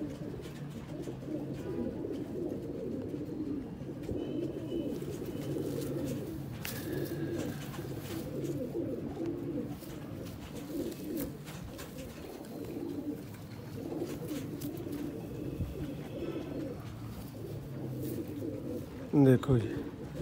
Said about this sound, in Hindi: पुराने सियालकोटी कबूतर